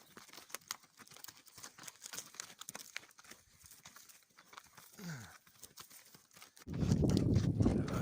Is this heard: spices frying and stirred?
no